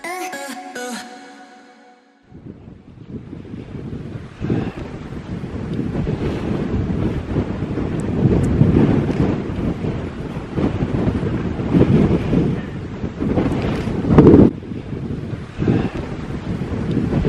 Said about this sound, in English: Today, it's all about the wind.